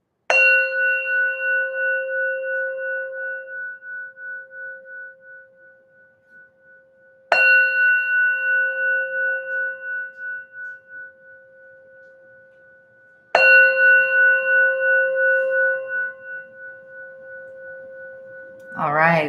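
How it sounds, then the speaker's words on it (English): A bell rings out three times at the start of a live session, each clear metallic strike hanging and pulsing as it slowly decays in a quiet room, with the final strike cut short. "Here we go with the bell."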